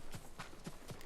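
Horse hooves clip-clopping in the samurai video game Ghost of Tsushima, four evenly spaced, fairly close hoof strikes in a steady walking rhythm with no talk.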